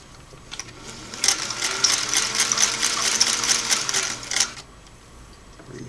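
A Singer 503A twin-needle sewing machine runs a straight stitch, a rapid, even clatter of needle strokes lasting about three seconds, close and alone, with brief handling clicks before and after.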